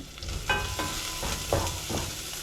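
Tomato sautés in hot oil in a pan, a steady close sizzle with a few louder stirring scrapes breaking through at regular moments.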